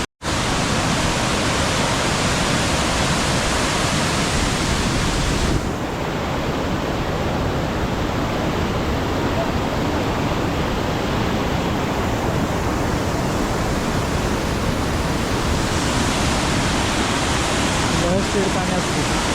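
Urmagad waterfall at Phulbani roars as a loud, steady broadband rush of falling water, continuous throughout with a slight drop in level partway, and voices faintly mixed in beneath the noise.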